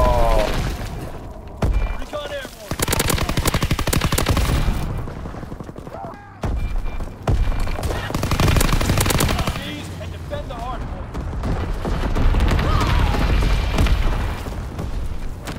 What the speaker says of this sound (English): I literally used every bullet of Lewis, and then I was on the pistol.